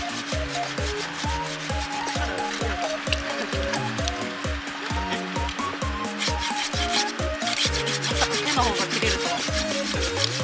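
A small Japanese hand saw cuts through tree roots in an overgrown garden: fast, rhythmic rasping strokes, close and loud, repeating steadily throughout.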